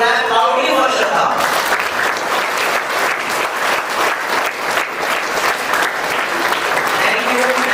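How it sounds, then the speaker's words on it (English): Loud, dense applause from students, teachers and coordinators at a Shraddha School of Excellence CBSE assembly, sustained and steady throughout, starting with a brief burst and settling into continuous clapping. "I would like to request all these students, teachers, coordinators who are listening this to clap loudly for Shraddha."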